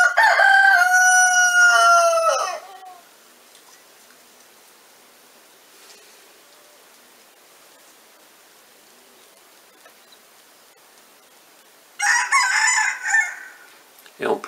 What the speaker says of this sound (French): Vous entendez, c'est le coq enroué.